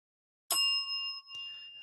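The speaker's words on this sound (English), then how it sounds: "I should ring the bell for that." A small bell struck once on an aviation podcast, a bright clear ding with a long ringing tone, then a second lighter tap that keeps the ring going.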